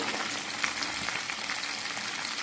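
Boiled taro and potato sautéing in a pan with tomato, turmeric, cumin and chili powder for a taro and prawn dish, a dense, continuous sizzle with faint scraping of stirring throughout.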